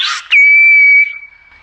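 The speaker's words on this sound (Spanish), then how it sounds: "una de las frases más importantes del silbo gomero es esta" A single phrase of Silbo Gomero, the whistled language of La Gomera: a short breathy onset, then one loud, sustained steady whistle that fades away, heard alone.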